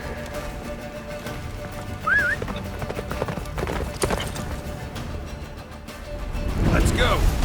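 Roach, the horse in The Witcher 3: Wild Hunt, gallops with steady clip-clopping hooves and a brief whinny during the battle of Kaer Morhen, under game voices and a swelling score.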